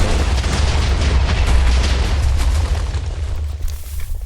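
A blocky explosion in the Minecraft video game, a loud booming blast with heavy low rumble that fades out over a few seconds, with no voice over it.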